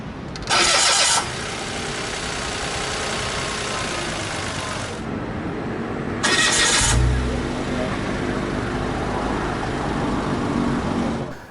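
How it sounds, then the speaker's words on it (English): A 2023 Mitsubishi Mirage G4 1.2 GLS with CVT starts by push button: a brief crank, then the small engine catches and settles into a steady close idle that continues to the end. "hit this engine start-stop button to fire up the engine"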